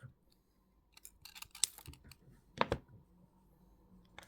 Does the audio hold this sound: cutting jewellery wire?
yes